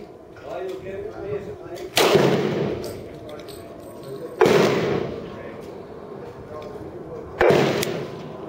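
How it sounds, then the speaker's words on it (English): Three loud Glock pistol shots fired a couple of seconds apart, each a sharp close crack with a brief echoing tail, with someone talking quietly in the gaps. "So there's 3 shots."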